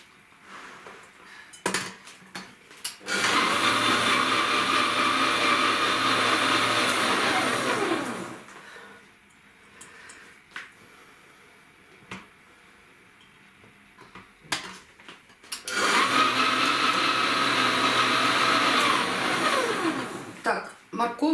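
A kitchen food processor dices vegetables and boiled eggs for Olivier salad, whirring loudly in two long bursts with a quieter gap between, where clinks and brief talk are heard.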